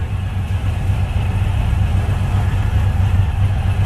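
A Suzuki Intruder M1800R motorcycle idles nearby, its engine a loud, steady low rumble with an even throbbing pulse and no other sounds over it.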